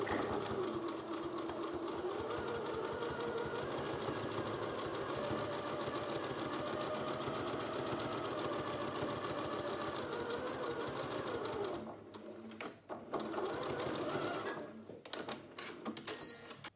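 A sewing machine runs slowly and steadily through a thick seam on a fabric face mask, a continuous rhythmic mechanical chatter that stops for a couple of brief pauses near the end.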